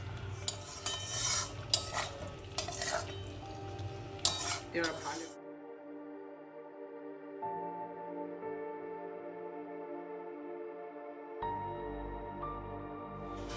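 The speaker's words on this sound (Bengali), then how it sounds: "এগুলোর মধ্যে আমি আলুগুলোকে ছেড়ে দিচ্ছি মশলাটা কিছুটা কষানো হয়ে গেছে" Potatoes being tipped into spice paste in a pan for a rohu fish kalia, with utensil clatter and stirring scrapes for the first few seconds, followed by a steady tonal hum and quieter background after the pan settles.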